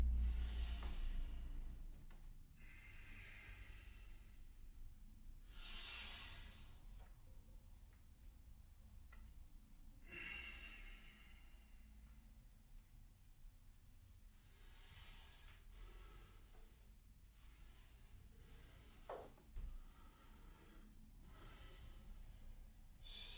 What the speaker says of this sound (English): Breathing gets longer, lower. Deeper, slower.